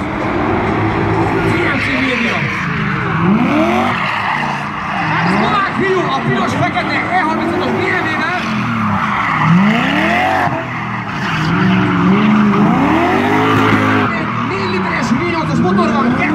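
A gymkhana car with a 2.5-litre naturally aspirated inline-six making 200 hp revs hard and skids, its engine note rising and falling in repeated sweeps with tyre squeal, continuous and loud, with voices over it.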